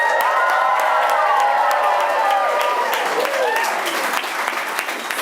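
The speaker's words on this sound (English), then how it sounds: "To uproarious applause." Uproarious applause for a performer entering a live stage show, loud sustained clapping mixed with cheering, whoops and high excited voices from a crowd.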